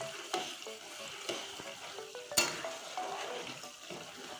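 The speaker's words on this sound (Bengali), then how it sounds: "সুন্দর করে নাড়তে হবে না হলে নিচে লেগে যাবে" Milk cream being stirred in a pan to make ghee, a quiet steady sizzle under repeated scraping and clinking of a spoon against the metal, close and unhurried with no voices.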